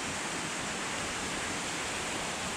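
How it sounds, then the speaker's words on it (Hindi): A mountain waterfall on the Kedarnath trek rushes with a steady, dense hiss of falling water, loud and continuous with no break or voices. "पहाड़ों में ऐसे झरने होते हैं"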